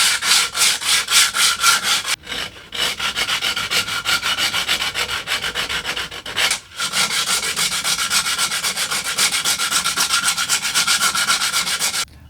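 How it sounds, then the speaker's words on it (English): A coarse 36 grit bow sander scratched cross grain over the octagonal facets of a wooden tool handle, giving a loud, steady, raspy back-and-forth rubbing in quick even strokes, with two brief pauses. "I'm going to just saw this back and forth, cross grain on every one of these octagonal facets."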